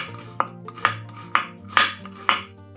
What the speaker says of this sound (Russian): 2 красных луковицы среднего размера разрезаем пополам и нарезаем полукольцами.